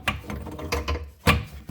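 Ratcheting wrench clicks as the mounting nuts under a faucet are loosened during a faucet replacement, coming in several short, close bursts separated by brief pauses.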